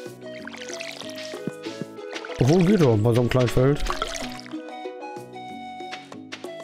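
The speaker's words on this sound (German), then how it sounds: "Gehen wir mal deine Bohnen gießen, ne?" A watering can pours over a small bean field in the farming video game Stardew Valley, giving a burst of splashing, trickling water in the middle of the clip. Game music and players' chatter continue underneath.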